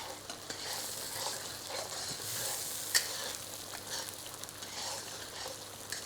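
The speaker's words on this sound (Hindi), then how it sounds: "और अब इन दोनों चीज़ों को अच्छी तरीके से भूनना है।" Cumin seeds roast in a pan, a soft continuous frying hiss with light stirring scrapes and one brief sharp clink, fairly faint and without speech.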